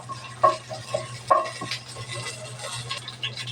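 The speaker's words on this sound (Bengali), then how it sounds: "দুইটা কাঁচামরিচ দুইটা শুকনো মরিচ দারচিনি এলাচ তেজপাতা লবঙ্গ আমি একটু সুন্দরভাবে ভেজে নেব" Cinnamon, cardamom, bay leaf, cloves, green chilies and dried chilies frying in mustard oil, a spoon stirring and knocking the pan twice early on over a faint steady sizzle, close and moderately quiet.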